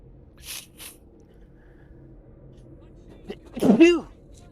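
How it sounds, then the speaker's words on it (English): A single loud, close sneeze from a man bursts out near the end, after a couple of soft breaths in an otherwise quiet room. "That was a sneeze."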